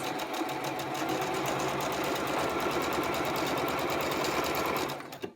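A sewing machine chain-pieces quilt strips in one continuous, steady mechanical run of rapid stitching, close and even, before stopping abruptly near the end.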